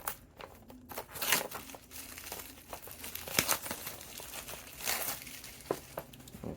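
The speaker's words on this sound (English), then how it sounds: "Let's remove the plastic cover first." A plastic cover is peeled off a T20 Ultra 2 smartwatch in gray, with close, irregular crinkling and crackling bursts that rise and fall for several seconds. There is no speech.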